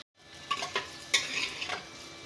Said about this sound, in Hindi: घी 2 चम्मच डालेंगे इसमें और इसी में प्याज ब्राउन करेंगे।